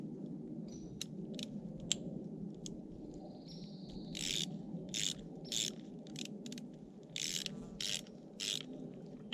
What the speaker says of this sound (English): Torque it to spec.